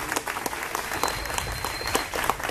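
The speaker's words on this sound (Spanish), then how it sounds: "Laura Busche, un aplauso para ella" An audience applauds speaker Laura Busche at a FuckUp Nights entrepreneurs' event in Barranquilla, a steady wash of many hands clapping at moderate, even loudness throughout.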